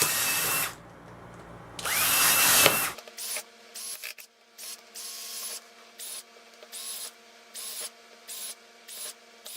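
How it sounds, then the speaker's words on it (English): A power drill bores holes into the bottom of a plastic anode basket, first in long loud whining bursts, then in a rapid series of short, evenly spaced drilling pulses. "drill some holes in the bottom of the anode basket"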